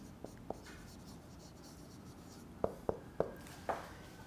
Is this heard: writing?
yes